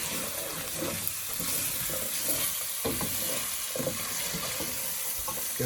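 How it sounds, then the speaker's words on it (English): A spoon stirs lentil soup with chicken and bacon in a pot, giving a steady wet scraping and bubbling sizzle that runs continuously at close range with no voices. "Give this a stir."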